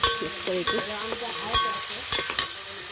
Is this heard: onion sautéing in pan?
yes